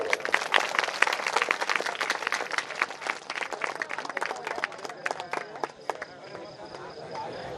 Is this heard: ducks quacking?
no